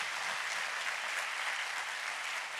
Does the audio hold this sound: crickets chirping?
no